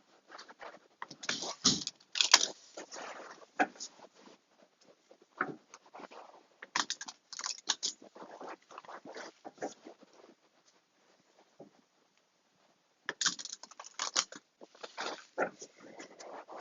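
A deck of tarot cards shuffled by hand in intermittent bursts of soft, close riffling and patting, with quiet gaps between and a final flurry near the end, no voices.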